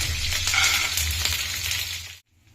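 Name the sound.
curry leaves and peanuts frying in oil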